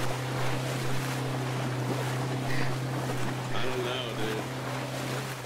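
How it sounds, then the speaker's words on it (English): Water sloshes and washes continuously with wind-like rushing and a steady low hum in an H1Z1 video game scene after falling under the map, while faint voices briefly break through. "Why do I hear water?"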